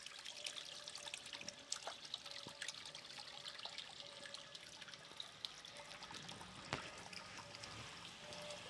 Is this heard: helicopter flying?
no